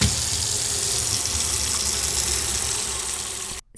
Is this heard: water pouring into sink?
yes